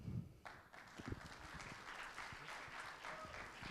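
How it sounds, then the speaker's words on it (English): An audience at a conference gives a short, dense round of applause from many hands, steady and moderately loud throughout, with a few louder thumps at the start. "let's give an applause for Jacek,"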